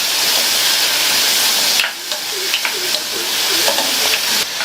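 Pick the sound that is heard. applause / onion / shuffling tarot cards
onion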